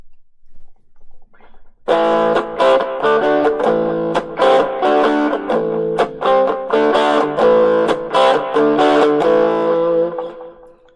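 Heavily distorted electric guitar chords played loud and sustained through a Marshall MS-4 Microbe mini full-stack amp, with rhythmic strums and brief choppy breaks for about nine seconds.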